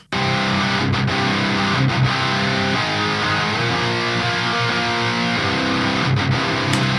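Distorted rock guitar power chords strummed steadily and loudly, a thick sustained wall of crunchy tone with occasional short breaks between chord hits.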